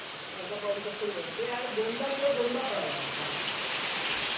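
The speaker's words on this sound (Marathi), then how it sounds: "चांगला पडतोय चांगला पडतोय पाऊस" Heavy monsoon rain falls outside, a steady broadband hiss that fills the whole scene evenly, with voices talking quietly underneath.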